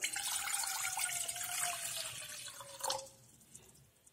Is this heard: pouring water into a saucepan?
yes